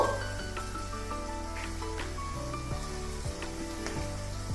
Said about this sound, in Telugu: కొంచెం కరివేపాకు వీటన్నిటిని మీడియం ఫ్లేమ్ మీద దోరగా వేగనిద్దాం